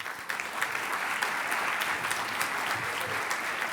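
An audience at an agri-food conference session applauds a presenter, steady crowd clapping throughout, moderately loud with a roomy, even texture.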